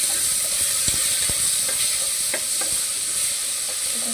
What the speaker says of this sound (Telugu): వేగింది కదా, కొంచెం వేగినాయి. టమాటాలు వేసేస్తున్నాం.